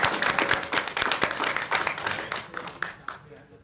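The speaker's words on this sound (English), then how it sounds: "So can we give ourselves a round of applause?" An audience at a city parks and recreation advisory board meeting claps, a fairly small group producing uneven, close hand claps that thin out and stop near the end, with some voices mixed in.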